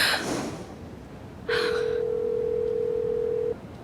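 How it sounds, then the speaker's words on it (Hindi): A single steady telephone ringing tone sounds for about two seconds over a quiet line, after a brief rustle of noise at the start. "चलो मानूर, फोन उठाओ।"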